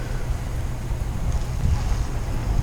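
Wind roars steadily across the microphone during a group cycling ride, a dense, buffeting rumble with no clear breaks.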